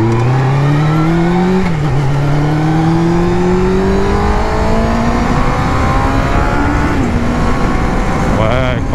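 A 1997 Suzuki GSX-R motorcycle engine revs loudly and close, its pitch climbing smoothly through the gears with brief dips at each shift, pulling strongly throughout.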